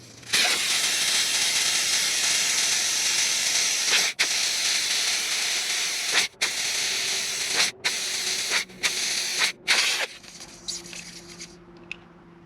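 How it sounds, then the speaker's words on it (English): Air hisses steadily out of a quad's tire through a valve stem remover, a loud continuous spray broken by several brief pauses before tapering off near the end. "now I'm gonna let the air out of the tires real quick"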